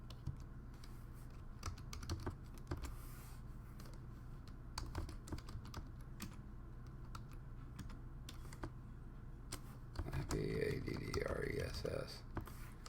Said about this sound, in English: I'm going to type that command in.